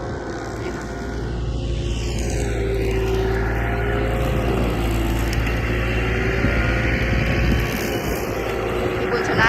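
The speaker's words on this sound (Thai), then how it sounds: "พี่บุญชนะสั่งลูกน้อง ไปเอารถไถมาแล้วนะคะ เดี๋ยวจะปรับปรุงตรงที่ว่าเป็นหลุมเป็นบ่อด้วยเนาะ" A tractor drives along a road under repair beside a canal, its engine droning steadily and close with a low rumble and rising whine, while a person speaks over it.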